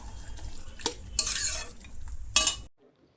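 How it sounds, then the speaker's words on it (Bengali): Spices frying in hot oil in a pan are stirred with a utensil, giving a steady close sizzle broken by a few sharp scrapes and clinks before it cuts to silence. "এটা একটু নেড়ে দিই"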